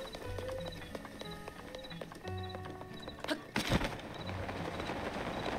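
A horse's hooves clip-clop steadily in The Legend of Zelda: Breath of the Wild, over layered game music and a brief whoosh near the end, faint and alone.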